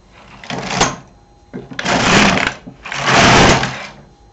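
LK 150 knitting machine carriage swept across twice, three harsh rasping mechanical passes a second or so apart, loud and close, with no talking.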